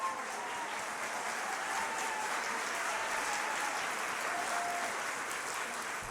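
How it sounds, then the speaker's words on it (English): Steady, continuous applause from a crowd at an outdoor healthcare rally, even and moderately distant throughout, with faint voices beneath. "Give Chuck another round of applause."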